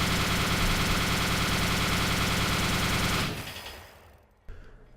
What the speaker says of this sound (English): Let's begin to open up with a minigun.